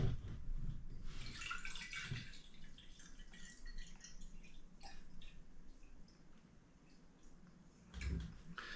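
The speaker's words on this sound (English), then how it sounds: "we'll pour it in the jar." About 24 ounces of water poured into a one-quart Mason jar while setting up hydroponic lettuce, heard as close, steady splashing and trickling with a brief louder gush near the end.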